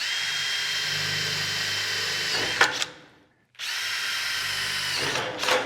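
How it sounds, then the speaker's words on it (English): A power drill boring holes during DIY crawlspace encapsulation, a loud steady whine that runs for about two and a half seconds, cuts out briefly, then starts again for another long burst, with no talking. "let's go ahead and get these holes drilled out"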